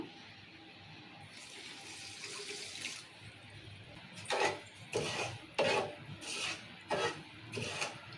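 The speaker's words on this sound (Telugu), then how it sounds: "ఒక చిన్న గ్లాస్ అని వాటర్ పోసుకుందాము" A small glass of water splashes and pours into a metal pan for sugar syrup, at first softly, then in a series of short, uneven gushes.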